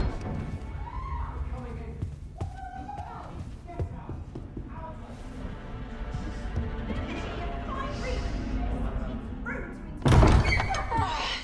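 A heavy door slams with a loud, sharp thud near the end in the video game Dragon's Dogma 2, after voices talk and footsteps shuffle over a quiet ambient bed.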